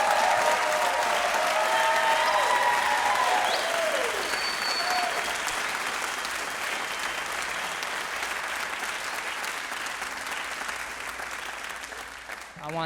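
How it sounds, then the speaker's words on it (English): Audience clapping at the end of a comedy special taping, loud and dense at first, then gradually thinning and fading over several seconds, with the comedian's voice briefly over the start. "So, y'all can clap, just clap."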